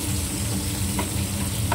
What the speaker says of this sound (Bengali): বেগুনটা উল্টে পাল্টে ভেজে নিতে হবে ভালো করে।